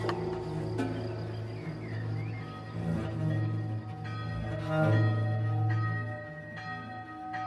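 A monastery church bell tolls for night prayer with long, ringing overlapping strikes, resonant and sustained, with faint insect chirping in the background.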